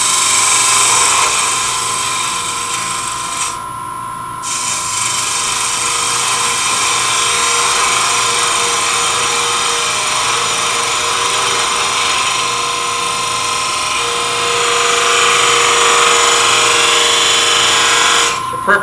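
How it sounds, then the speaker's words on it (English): Shallow fluted gouge cutting a small bead on a spinning wood lathe while turning a miniature nesting-box lid: a steady, loud, continuous whir and scraping hiss with one brief break partway through, no talk. "Use a shallow fluted gouge to kind of create a little bit of a"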